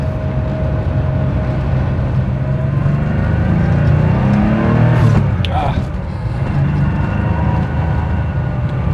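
An air-cooled Porsche engine drones loudly and steadily with a rising rev, close by and continuous throughout.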